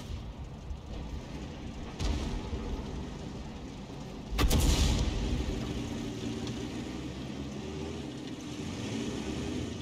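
The Lorraine 155 mle. 50 artillery gun fires in World of Tanks, a heavy boom that rolls out over steady engine rumble and battle noise, with a fainter report a couple of seconds earlier.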